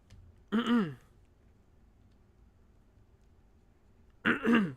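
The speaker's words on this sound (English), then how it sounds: "I'm clearing my throat from when I was dying from drinking" A person clears their throat twice, short rasping bursts separated by a few seconds of near silence, close and fairly loud.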